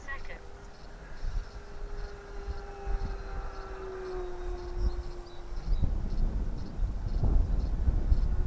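H-King Crusader 1200mm RC plane on 4S power making a pass, its steady motor whine drifting across in a long tone under someone talking, with wind and handling noise louder toward the end.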